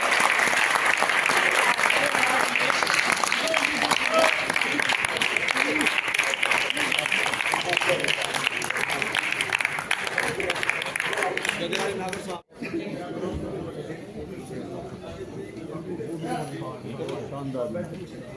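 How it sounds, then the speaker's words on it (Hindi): Sustained, loud audience applause for theatre artists at a staging of Premchand's Godan, filling most of the clip before cutting off abruptly, then quieter crowd noise with some talk. "जोरदार तालियां फिर से हो जाइए।"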